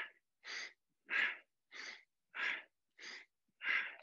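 Deep, rhythmic breathing during seated chair yoga, with seven or so slow, full breaths following one another at an even pace, each a broad airy rush close to the microphone, separated by short silences and with no talking over them.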